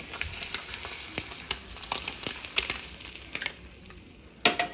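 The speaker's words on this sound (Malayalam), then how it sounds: "ഇനി ഇതിനകത്തേക്ക് നമുക്ക് ടൊമാറ്റോ വെറുതെ ഫ്രൈ ചെയ്തെടുക്കാം" Tomato frying in a pan sizzles steadily at close range, with spatters and crackles over a hissing bed and a sharper clatter near the end, no voices.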